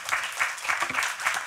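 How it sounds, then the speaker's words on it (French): An audience claps for four guests at the close of a Paris round-table discussion, a dense patter of hands heard nearby, rising and falling slightly over a short burst with no voices. "Je vous propose de les applaudir."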